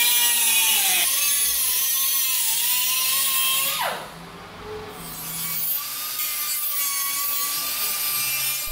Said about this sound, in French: Je corrige juste un oubli avec la découpe des quelques millimètres de surplus de la tôle qu'on a soudée plus tôt.